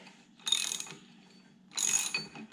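A ratchet clicks in two short bursts while being worked on the flywheel of an air-cooled VW stroker engine, each a quick run of sharp metallic clicks separated by a brief quiet pause.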